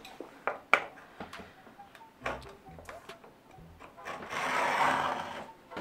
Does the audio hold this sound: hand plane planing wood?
yes